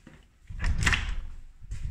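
Doors to the reception room of a three-bed apartment slide and close, a soft rumbling glide followed by a muffled thud, then a quieter second movement, close by and without talk.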